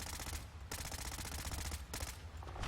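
Sustained, rapid assault rifle fire in the Fallout 4 video game, a dense rattling burst with brief gaps, heard faintly and without talk.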